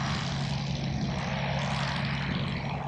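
A jump jet aircraft lands and turns around, producing a steady, loud, continuous engine roar with a strong low hum throughout.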